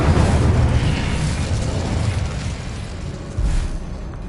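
Incendio fire spell cast in Hogwarts Legacy on PS5, a loud, sustained fiery roar and rumble with deep booming low end that fades slightly before a second burst swells near the end.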